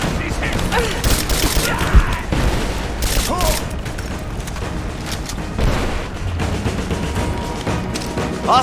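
Gunfire in the Rise of the Tomb Raider game comes as dense, loud bursts with booming impacts and crashes, going on without a break and mixed with shouted voices from game characters.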